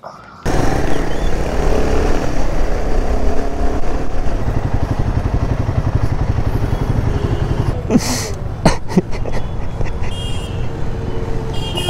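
KTM 250 Duke, 390 Adventure and Himalayan motorcycles riding on the road, a loud continuous engine drone with wind rush throughout and a few short horn toots near the end.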